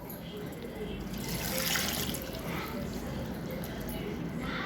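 Rice is rinsed in water for kavuni kanji, soft sloshing and swishing water sounds that stay faint and continuous throughout.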